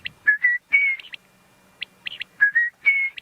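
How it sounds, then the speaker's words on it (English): An unidentified bird calls repeatedly in the African bush at sunset, giving clear whistled notes in short phrases separated by brief pauses, close and distinct over a quiet background. "I'm trying desperately to figure out one of the birds that we can hear while we watch the cheetah."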